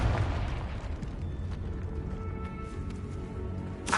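A Confringo fire spell explosion in the video game Hogwarts Legacy: a loud, deep burst at the start that trails off into a rumbling, crackling decay, with another sharp hit at the very end.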